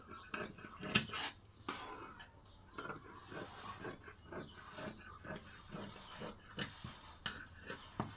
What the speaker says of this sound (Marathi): बघा या पद्धतीने मी कट करून घेते आता